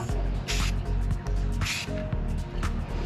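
Spray can hissing in short bursts as light base coats of paint go on during a Coyote swap fuel system install, three or four close hisses between pauses over a low background hum.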